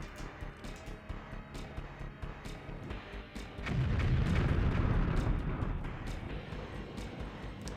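Grenades blowing up mines in the BattleTanx video game: after quieter engine rumble, a heavy explosion swells into a loud, sustained rolling boom that slowly fades, with no speech.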